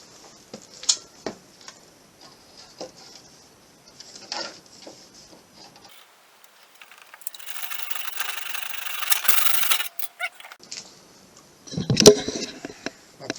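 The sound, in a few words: hand saw cutting PVC panelling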